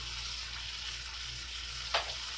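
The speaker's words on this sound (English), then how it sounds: "Those of you who don't know how to cook a steak, stop burning everything." A steak fries in a pan with a steady, even sizzle held close throughout, and one brief sharper crackle near the end, with no voices.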